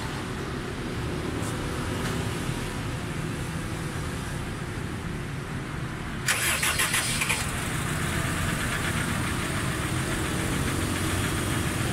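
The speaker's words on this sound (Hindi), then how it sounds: "ये देखें, गाड़ी मिसिंग आ रही है," A 2011 Honda Civic engine misfires with one cylinder not working, idling with an uneven, faintly knocking rhythm that turns harsher and louder partway through; no talk is heard.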